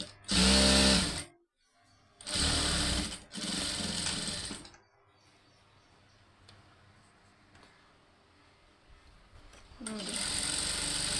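A sewing machine stitching a blouse runs in loud close bursts of rapid whirring, three distinct runs with brief pauses, then a quieter stretch of handling before the motor starts again.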